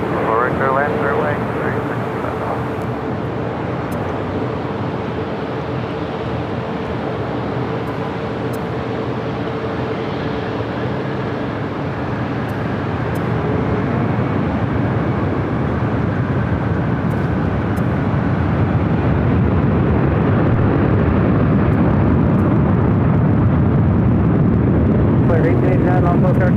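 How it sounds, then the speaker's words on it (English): A heavy Boeing 747 climbs out overhead after takeoff from LAX, a deep, powerful jet roar that builds and grows louder toward the end, with voices talking over it throughout. "Sarah Heavy Boeing 747 is overhead and out"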